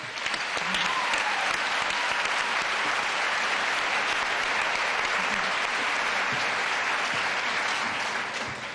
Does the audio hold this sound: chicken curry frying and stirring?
no